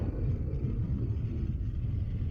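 A Harley-Davidson Pan America motorcycle engine rumbles steadily and deeply throughout, a continuous low drone heard from close by with no talking.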